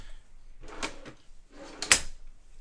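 Deep drawers in a 2025 Forest River Sabre 36FLX fifth wheel trailer slide open and shut, two close soft runs each ending in a light thump, the second with a sharper clack.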